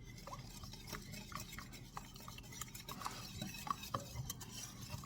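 Zucchini muffin batter with cinnamon being stirred in a bowl, soft repeated scraping and light clinks of a spoon in a quiet, close setting with no voices.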